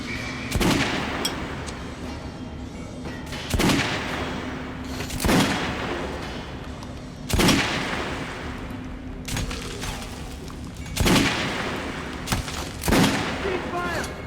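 Gunfire in Metro: Last Light Redux: heavy, booming shots land every two to three seconds, each a sharp blast with a short tail over a constant low rumble and hum.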